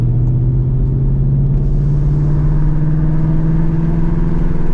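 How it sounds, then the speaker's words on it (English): A Ford S650 Mustang GT driving slowly with its exhaust valves closed, producing a steady, low engine rumble with an even hum from inside the car, no revving. "Luckily, this car is quite quiet, especially when you don't have the valves open."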